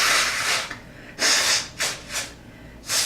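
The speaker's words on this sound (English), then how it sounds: "He has to blow his nose first." A person blows their nose close up in a few sharp, breathy honks and snorts separated by short pauses, with no talking.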